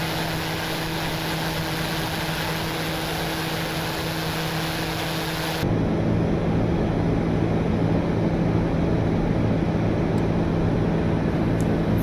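A TBM 900 turboprop climbing just after takeoff in the X-Plane 11 flight simulator makes a loud, steady engine drone with a sustained tonal hum; the sound shifts abruptly midway to a broader, rougher roar.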